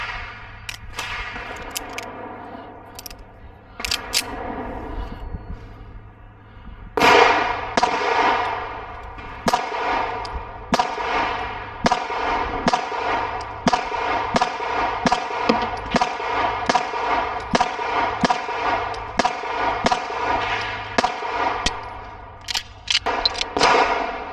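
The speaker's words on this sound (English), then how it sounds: "before getting hot and tired shooting steel all morning long" Compensated 2011 pistol firing at steel targets outdoors, a few scattered shots and then a long, fairly regular string of sharp, loud reports with metallic rings after each hit.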